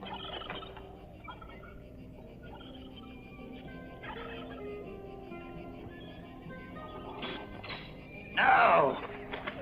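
Poultry birds kept as egg layers gobble and cluck in short bursts, with a louder call near the end, under a quiet background where a voice occasionally speaks.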